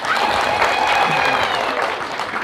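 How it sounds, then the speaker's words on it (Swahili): Dense, steady applause from a crowd at a CCM political event in Tanzania fills the whole stretch, a continuous wash of clapping without breaks. "Makofi mengi kwa CCM tafadhali."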